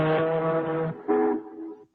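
A voice mimics the deep blast of an ocean liner's horn in two low, droning honks, the first long and the second shorter and trailing off, close up and alone.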